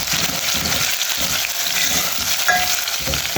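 Pounded ginger and garlic frying in hot oil in a pot, a loud, continuous close-up sizzle and crackle that holds steady throughout with no talking.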